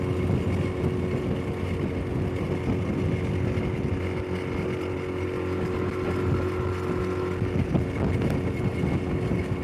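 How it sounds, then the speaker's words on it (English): Strong wind whipping up through a canyon and over a dam at a lake, a steady loud roar and rumble of gusts buffeting the microphone without a break. "The wind is getting crazy up over the dam here. It comes up through this canyon and just gets whipping through here."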